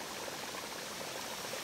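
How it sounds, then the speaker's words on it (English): Hot springs bubble and burble at a sulphur spring area in a volcanic caldera, a steady close wash of water noise without any voices. "And little hot springs bubbling up."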